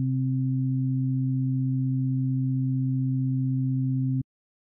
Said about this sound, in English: I've got here a sine wave playing at C4 and C5.